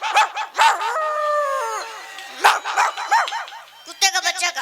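A voice imitates a dog, giving a quick run of barks, then a long drawn-out howl, then more clipped yelping barks, all close and loud.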